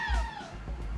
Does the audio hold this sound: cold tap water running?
no